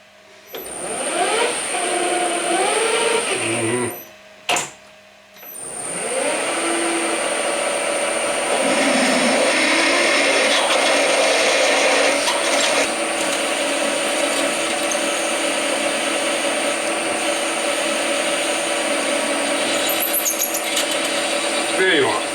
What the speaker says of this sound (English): We drill it.